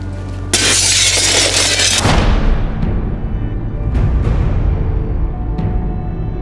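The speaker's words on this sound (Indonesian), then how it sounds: "biarkan kamu melempar kaca tersebut" A glass mirror shatters in one loud, sustained crash of breaking glass, followed by scattered tinkling fragments fading over several seconds with a low rumbling tail.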